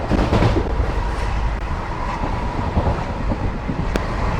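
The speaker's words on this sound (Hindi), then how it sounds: "हमें इस ट्रेन का सफ़र बहुत ही अच्छा लग रहा है।" Sutlej Express passenger train speeding between Moga and Ludhiana, heard from on board as a steady, loud rumble of wheels and carriage noise with faint rhythmic rail clatter throughout, no voices.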